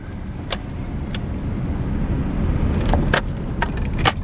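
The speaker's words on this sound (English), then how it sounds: "And we'll take off. Started driving on this grass 2 track going to the property." A car rolls slowly onto a grass two-track leading to rural property, its low engine rumble steady throughout, with a few light rattles or clicks from inside the vehicle and no talking.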